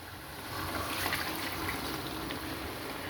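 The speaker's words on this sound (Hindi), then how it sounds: "तो अब इसके अंदर हम डाल देंगे पानी" Water is poured into a pot of browning chicken mince keema with potatoes and peas: a soft, steady splashing trickle that swells briefly in the first second and then runs on evenly at low volume, with no talking.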